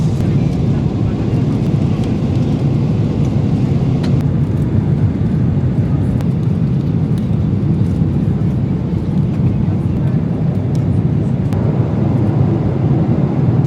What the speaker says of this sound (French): Bon les gars, on est en train d'atterrir, il reste genre 10 minutes de vol